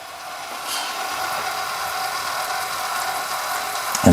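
Self-emptying robot vacuum lining up at its base, a steady mechanical whir and ratcheting hum held at moderate level throughout, with a sharp knock at the very end.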